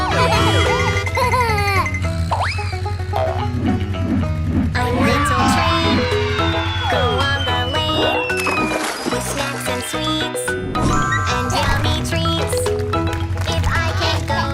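A cartoon police car siren wails and warbles amid bright, busy music and playful sound effects, loud and continuous throughout.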